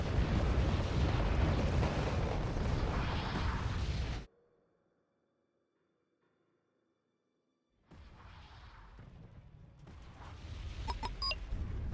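Rocket artillery explosions in the war game Wargame: Red Dragon: a loud, dense rumbling barrage for about four seconds, a few seconds of near silence, then another softer rumbling wave with crackling bursts.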